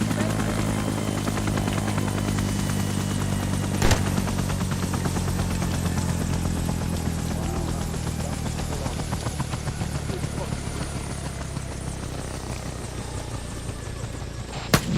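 Helicopter in the military game ARMA 3, Prairie Fire expansion, a steady dense rotor and engine drone filling the whole stretch, loud and continuous, with a sharp crack near the start and a voice talking over it.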